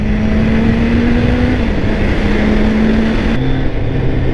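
A 1999 Kawasaki ZZR 600 motorcycle ridden through town, engine humming loudly and steadily with its pitch shifting slightly between gears, smothered in heavy wind rush close to the rider.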